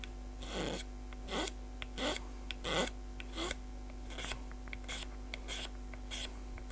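A pencil is scribbled back and forth over a wooden surface on a banjolin build, giving short raspy scratching strokes in an uneven rhythm, close and fairly quiet over a steady low electrical hum.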